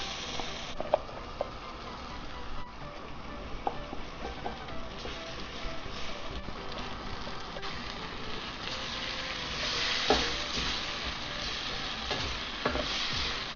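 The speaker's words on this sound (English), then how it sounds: "Fry the masala real well so the raw smell of all the garlic and all the herbs that we added, it's all gone." Masala with ginger garlic paste fries for a South Indian chicken biryani, a steady close sizzle with scattered spoon knocks and scraping as it is stirred, the hiss swelling briefly near the end, without speech.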